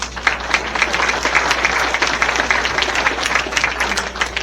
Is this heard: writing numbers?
no